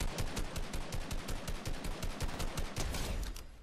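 Gunfire in Fortnite: a fast, steady automatic stream of sharp shots, roughly seven per second, loud and continuous for several seconds before tapering off, with no talking.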